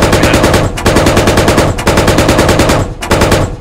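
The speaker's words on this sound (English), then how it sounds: "Not effective shots, I don't see anything hitting." Sustained automatic gunfire in the tactical shooter Squad, loud and close, in three long rattling bursts separated by brief pauses, with no talking.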